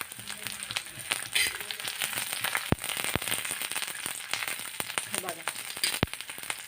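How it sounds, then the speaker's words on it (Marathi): Peeled garlic cloves frying in hot oil, crackling and popping densely with sharp sizzling bursts throughout, while a person talks over it. "याचं फ्राय करत असताना तेल अंगावरती उडतं"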